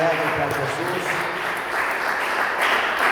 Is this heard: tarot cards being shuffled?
no